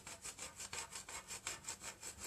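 Hand rubbing across a wooden porch sign, a quiet, close, rhythmic scraping of about a dozen even back-and-forth strokes, evenly spaced like sawing, with no voices.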